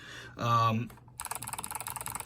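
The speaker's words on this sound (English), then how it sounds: "it sounds like a mouse clicking, which is not necessarily what I want, you know, from my keyboard sound" Bright, rapid clicky keystrokes typed on a Zeal Clickiez modified top mount mechanical keyboard, sharp and mouse-like, coming in a steady quick rhythm after a brief louder mechanical clack, fairly close.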